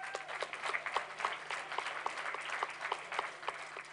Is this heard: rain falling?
no